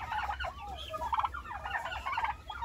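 A Royal Palm turkey gobbles in a pen in several quick warbling bursts, fairly faint and close, over a low steady hum with no talking.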